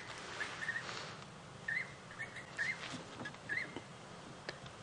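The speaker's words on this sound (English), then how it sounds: "I'm listening to the Jacobin cuckoos as they taunt me" Jacobin cuckoos call outdoors on a sunset safari drive, giving several short, fairly faint whistled notes spaced about a second apart over steady background hiss.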